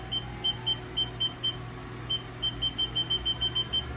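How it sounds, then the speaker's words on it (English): 2022 Haas VF-2 vertical machining center with its spindle running, a low steady motor hum under a series of short, evenly spaced high beeps that pause briefly and resume in a faster run. "Right now we are currently running it, running the spindle."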